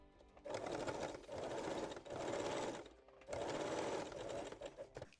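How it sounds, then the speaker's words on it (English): Sewing machine top-stitching the center front seam of full lace Brazilian panties with a longer stitch, running in three steady buzzing bursts separated by short pauses, close and alone. "Then top stitch the center front seam."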